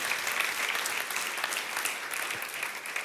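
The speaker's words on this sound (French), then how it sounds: "que ceux qui le croient disent Amen et applaudissent bien fort" A church congregation applauds loudly and steadily, a dense unbroken wash of clapping from many hands at close range for the whole stretch, with no speech over it.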